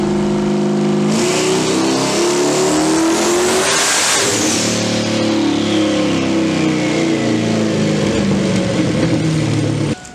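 A turbocharged Pontiac Trans Am roars loudly on a chassis dyno rollers, climbing through a hard pull with a rising whistle, then holding a high, strained drone near the end.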